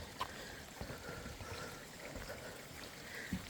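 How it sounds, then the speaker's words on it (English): A small mountain creek at Pine Mountain State Park, Kentucky trickles and gurgles faintly, a soft continuous wash of running water with a few light knocks and footfall-like thumps nearby. "we're pretty much following a little creek that runs down this mountain"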